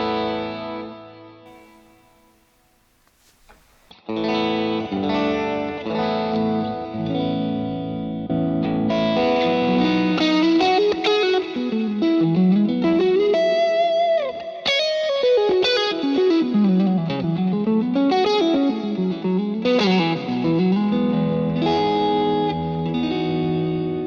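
Electric guitar played through a Boss IR-2 amp modelling pedal gives distorted, chorus-tinged tones, first as held chords and then as a winding, bending lead line, loud and continuous after a brief quiet start.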